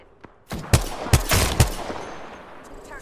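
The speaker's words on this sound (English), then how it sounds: "People shooting at that building." Gunfire in the battle royale game Apex Legends, several loud sharp shots in a quick irregular burst that echo and fade into a low rumbling tail.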